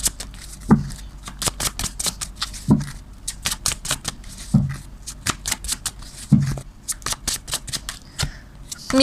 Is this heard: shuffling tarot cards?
yes